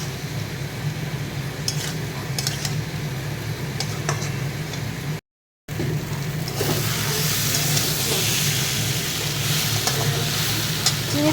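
Prawn curry sautés in a pan with a steady sizzle and intermittent stirring scrapes throughout, close and fairly loud, with a brief dropout midway and stronger hissing frying toward the end.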